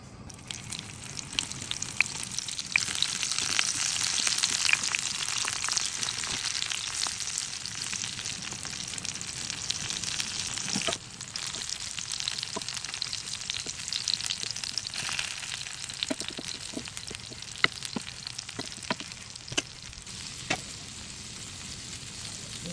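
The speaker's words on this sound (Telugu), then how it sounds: "ఇప్పుడు ఒక నాన్ స్టిక్ ప్యాన్లో నూనె వేడి చేసుకొని ఇవన్నీ వేసి మూత పెట్టి మగ్గనిద్దాం" Eggplant curry frying in hot oil in a non-stick pan: a long, even sizzle with a soft hiss, broken by occasional sharp pops and crackles, close and alone with no voices.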